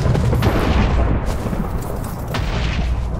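A loud, continuous rumbling blast from a bone explosion in Minecraft Super Smash Mobs fills the whole stretch, with deep booming roar and crackling noise and no pause.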